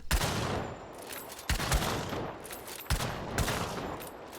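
Marathon rifle firing in the video game Hunt: Showdown, three loud, sharp reports spaced about 1.4 seconds apart, each followed by a rattling tail of bolt cycling and echo, with no talk.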